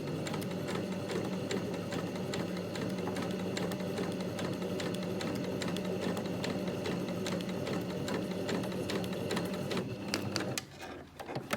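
A sewing machine runs a zigzag stitch along a folded blind hem, a fast steady mechanical clatter that continues close and unbroken for several seconds before stopping near the end.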